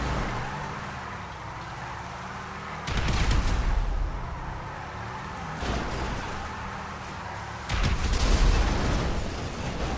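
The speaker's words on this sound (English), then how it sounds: "I made them blow themselves up with their own explosion" Loud explosions and bursts of gunfire from the video game GTA Online, three heavy blasts spaced a few seconds apart over a steady rumbling background.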